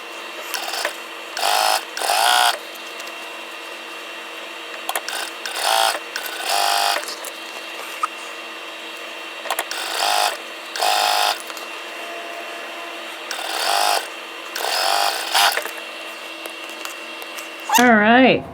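A sewing machine stitches quilt block pieces together in repeated short bursts of mechanical whirring separated by pauses, with a squeaky fabric or chair noise near the end and voices talking softly in the background.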